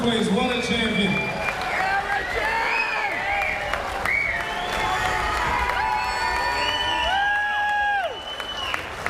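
A crowd at a featherweight title fight cheers, whoops and applauds for the champion. The noise is loud and steady throughout, with excited shouts rising over a dense bed of clapping.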